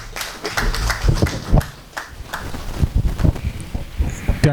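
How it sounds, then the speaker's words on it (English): Scattered applause at an awards ceremony, uneven and fairly close, with irregular claps and taps over a breezy, rustling background and some faint voices. "I want you all to give yourselves a round of applause."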